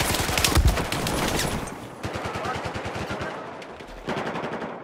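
Rapid automatic fire from the Bulldog gun in Battlefield 4, sustained close bursts of sharp repeated shots with brief pauses between strings of fire.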